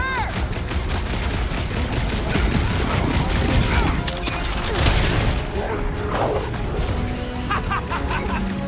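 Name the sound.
gunfire in Marvel's Guardians of the Galaxy video game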